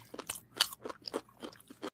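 Crunchy fried chicken is chewed up close in a mukbang, with a quick series of crisp, distinct bites and crunches and short quiet gaps between them.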